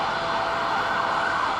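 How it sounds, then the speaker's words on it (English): An ambulance siren wails loud and close in busy Toronto city traffic, a continuous tone over a brief stretch with no talking. "When you hear a siren"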